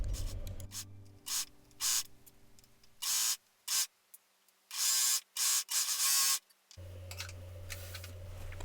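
A serger sews the inside leg seams of leggings, short bursts of loud rapid mechanical whirring start and stop several times between brief quiet pauses, with a low motor hum before and after.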